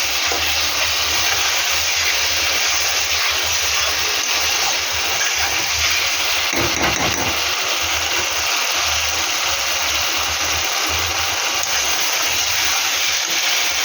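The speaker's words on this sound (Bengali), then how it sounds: "এবার আমি মাটনটা এর মধ্যে দিয়ে দেবো, দিয়ে হালকাভাবে কষতে থাকবো।" Mutton tipped into a hot pan and sautéed with spices for Bengali mutton jhol, a loud, steady sizzling hiss that runs throughout, with a brief clatter of stirring partway through.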